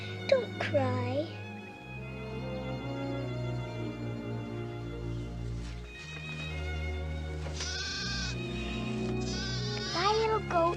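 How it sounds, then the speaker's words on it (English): A little goat bleats with a high, wavering cry over a music score, calling out several times alone and near. "Oh, that poor little goat."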